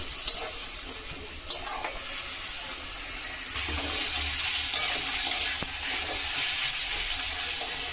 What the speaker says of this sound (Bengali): গ্যাসটা লো ফ্লেমে দিয়ে মশলাটা কষিয়ে নেব